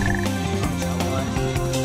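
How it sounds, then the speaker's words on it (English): A frog croaking in the Sonic Heroes video game, with loud repeated croaks in quick succession over game music, close and prominent. "Oh, okay, frog."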